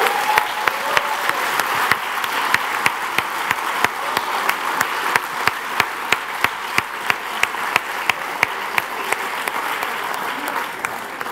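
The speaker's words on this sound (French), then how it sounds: "Vous pouvez les applaudir." An audience applauds the candidates at the Swiss final prize ceremony of Ma thèse en 180 secondes, a dense, steady wash of clapping with sharp individual claps standing out throughout.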